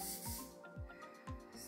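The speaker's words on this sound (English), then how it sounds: "I'm going to spray it exactly on my hairline" Spray from an aerosol can is applied to the hairline of a lace frontal wig in three short, close, airy hissing bursts spaced about half a second apart.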